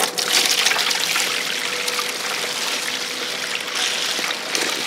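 Water runs steadily through a gold sluice carrying black sand, a continuous close rushing and trickling wash with slight surges, no voices.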